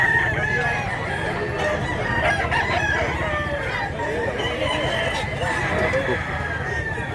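Several roosters crow repeatedly at a busy chicken market in Mantalungon, Cebu, their calls overlapping against a constant hum of crowd chatter and people talking nearby.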